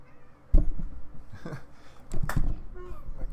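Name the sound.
cat meowing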